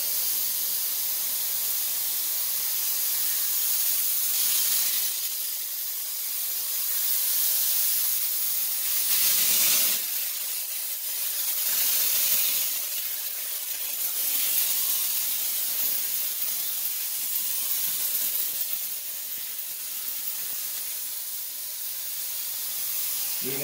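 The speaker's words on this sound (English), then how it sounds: "when I point this, it's going to atomize the actual disinfectant in the air." A handheld nano atomizer fogger sprays disinfectant mist in a steady loud hiss, fired in several long bursts separated by short quieter pauses.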